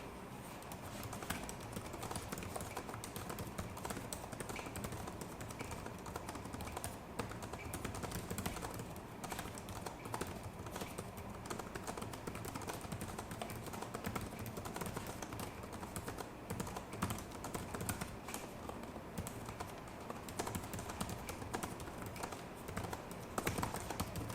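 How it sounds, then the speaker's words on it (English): Rapid, continuous clicking of laptop keys as someone types steadily, fairly quiet and close. "Let's do a typing test."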